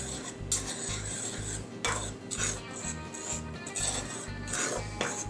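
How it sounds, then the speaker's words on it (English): Dry yeast, sugar and salt being stirred together in a bowl, with a spoon or utensil scraping and clinking against the bowl in a steady repeated rhythm, close and fairly quiet, with no talking. "Let's just get all those things kind of evenly spread out and mixed around in here."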